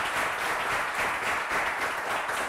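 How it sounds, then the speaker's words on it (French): Studio audience at a French televised game show clapping steadily and densely throughout, a continuous wash of applause with no voices on top. "Merci d'applaudir, cher charmant public."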